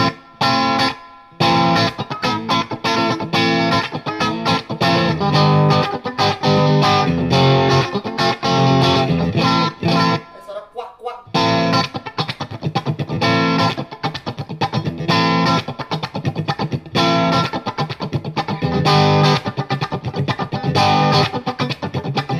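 Squier Classic Vibe 70s electric guitar with Alnico pickups, poplar body and maple neck, played on its second pickup position through distortion, with continuous strummed chords and riffs, loud and close, briefly pausing midway.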